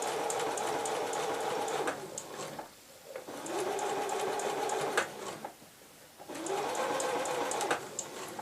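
Sewing machine stitching an invisible zip with the needle running under the zip teeth, steady close whirring runs broken by two brief pauses, no talk.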